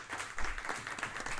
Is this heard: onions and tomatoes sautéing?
no